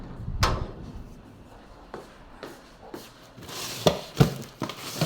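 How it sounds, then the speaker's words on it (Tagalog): A wooden door swings open with a few dry scrapes and knocks, spaced short rubbing thuds over several seconds, fairly close and moderately loud, no talking over it. "Buksan ko yung pinto."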